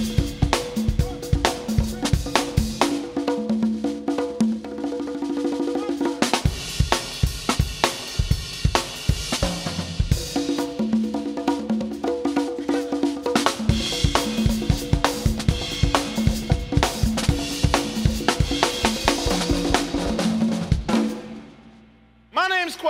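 A drum kit played together with bongos and congas in a lively, steady groove, loud and close, with dense rhythmic hits running throughout before a brief break and a closing flourish near the end.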